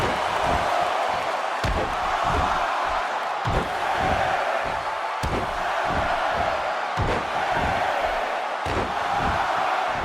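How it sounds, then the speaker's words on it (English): A packed St. Louis arena crowd in the WWE 2K16 wrestling game, during a Dolph Ziggler versus Stone Cold Steve Austin match, roars and cheers steadily, with repeated heavy slam-like thuds cutting through the din. "Another great crowd here in St. Louis."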